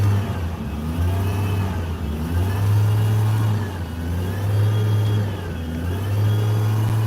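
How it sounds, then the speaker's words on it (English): A Chevrolet Trailblazer being troubleshot for an engine problem revs in repeated rising and falling surges, a loud, close mid-pitched engine drone with no talking. "revving the Trailblazer in the midst of trying to troubleshoot her"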